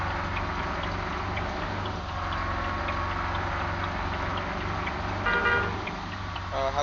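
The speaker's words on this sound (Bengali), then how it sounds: "হর্ন দিয়ে সবাইকে বাম পাশে চাপিয়ে দেই।" A bus horn in the Bus Simulator Indonesia game on a four-lane road gives a couple of brief toots near the end over a steady, loud engine drone, with no speech.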